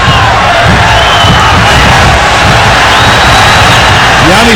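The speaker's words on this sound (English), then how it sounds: "the crowd urging on Guatemala to get it forward" A huge, roaring stadium crowd at a Guatemala vs USA World Cup qualifier urges on the home team, a loud continuous wall of cheering and shouts with whistles rising through it, constant from start to finish.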